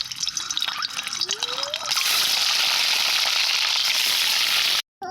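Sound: eggs frying in oil in a wok

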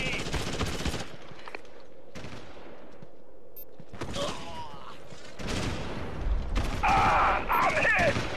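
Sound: heavy RPG and gunfire in the video game Ghost Recon: Advanced Warfighter

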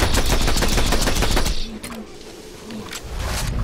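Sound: gunfire from Borderlands 2 video game

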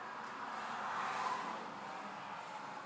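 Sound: car passing by outside an open window

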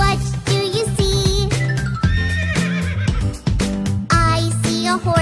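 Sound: horse neighing

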